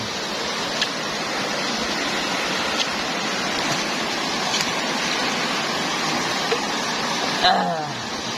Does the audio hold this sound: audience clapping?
no